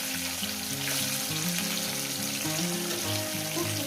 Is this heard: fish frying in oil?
yes